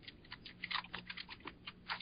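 Keys on a computer keyboard clatter in quick, uneven bursts of light clicks, close and fairly quiet, with no one speaking.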